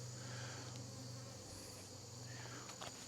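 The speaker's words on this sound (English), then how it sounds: "we've got a bee stuck on the Swiffer pad there" A bee buzzes while stuck on a Swiffer pad during a late-summer beehive inspection, a faint steady drone with a low hum beneath it, alone with no talking.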